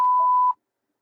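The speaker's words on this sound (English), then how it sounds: "I hear you well. I hear another tone in there." A single steady beep on an FM simplex amateur radio frequency, a clean half-second tone that cuts off sharply into silence.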